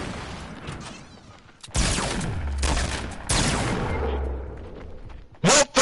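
Video game gunfire in a bursty exchange: two sustained loud volleys of shots, then a pair of sharp close cracks at the end, over a noisy game background.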